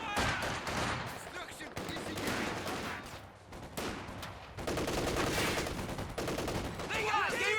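Machine gun fire rattles through a Company of Heroes 2 battle: repeated, loud bursts of automatic gunfire with brief gaps, mixed with other gunshots across the whole stretch.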